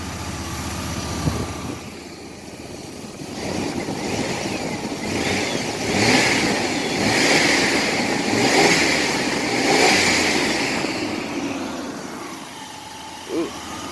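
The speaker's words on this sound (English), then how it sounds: "Give it a couple of revs real quick." A 4.3-litre Chevrolet S10 Blazer engine with a vacuum leak revs up a few times after sitting for two years, rising and falling in swells over a steady idle, close and loud with no talking.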